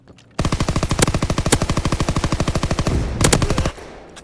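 Loud, close automatic gunfire from a video game gun, a fast unbroken rattling burst of several dozen evenly spaced shots lasting about three seconds before cutting off.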